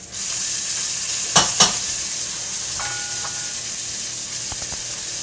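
A large steak sizzles and fries in a hot pan, a steady close hiss broken by two sharp metallic clinks of utensils and a few faint tones in the background.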